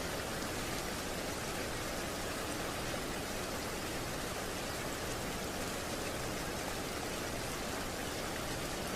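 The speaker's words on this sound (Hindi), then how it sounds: "it was so beautiful just listening to the rain" Rain heard from inside a moving train, a steady, dense hiss of falling drops that stays even and unbroken throughout, with no voices.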